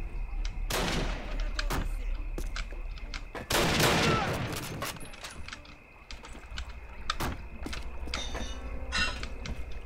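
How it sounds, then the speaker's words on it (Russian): A train rolls past amid gunfire in Call of Duty: United Offensive, with a sharp loud burst of shots near four seconds, scattered cracks before and after, and a steady rumbling bed underneath. "Поезд идет, Дойл, быстрее!"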